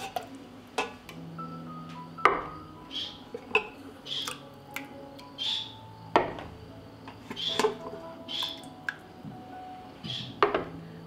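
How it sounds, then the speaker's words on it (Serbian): Glass jars being lifted out of an opened pressure cooker after canning potatoes, a series of sharp clinks and knocks of glass and metal spaced irregularly, close and fairly quiet. "otvorit ću ekspres lonac i skinuti poklopac. I izvadit ću tegle."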